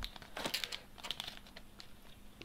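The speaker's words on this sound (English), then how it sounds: "It makes a lovely cellophane sound that drives everyone crazy, because it really makes you cringe." Cellophane wrapping on a Kindle Paperwhite (WiFi + 3G) package being unwrapped one-handed, giving soft close crinkles and crackles in quick bursts that thin out after the first second.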